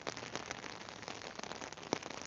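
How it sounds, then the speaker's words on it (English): Heavy, torrential rain pours down steadily at close range, a dense continuous hiss of drops striking surfaces, with one sharper drip or patter standing out briefly near the end; no talk. "It's pretty torrential now, is the rain?"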